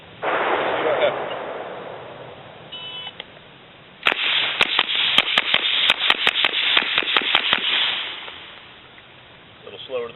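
A rapid string of sharp rifle shots, about a dozen in quick succession, cracks loudly during a V-Tac 1-5 drill at silhouette targets, following a stretch of wind-like noise and a few faint beeps.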